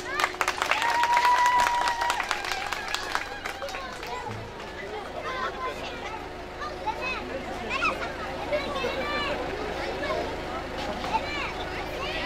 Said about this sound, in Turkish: o güzel alkışlar gelsin damat bey için